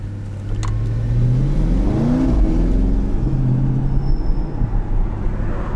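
A 680 hp Porsche Panamera Turbo S E-Hybrid in Sport mode accelerates on the road, its engine note rising through the revs and shifting gears, heard loud and close from inside the car with road noise beneath.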